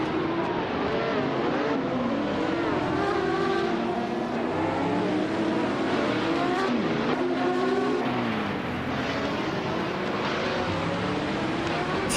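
Race cars in a video game howl around a track, several engines revving and shifting pitch at once in a dense, continuous roar, with some tire squeal and cars sweeping past.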